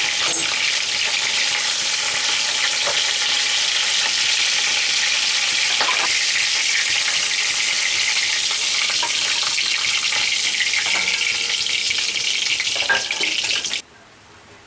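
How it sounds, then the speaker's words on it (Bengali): A katla fish head fries in hot oil with a loud, steady, dense sizzle that holds for about fourteen seconds, then cuts off abruptly near the end. "মাছের মুড়োটা ভেজে আমি তুলে নিয়েছি"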